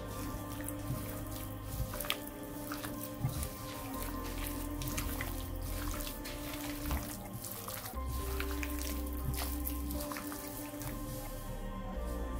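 Half a cup of water poured a little at a time into a fish pakora marinade, with soft drips and liquid squishing over a steady low kitchen hum, no talking.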